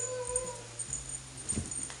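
A small puppy whimpers in a quiet room beside a sofa, a thin, faint whine rising briefly over low background hum.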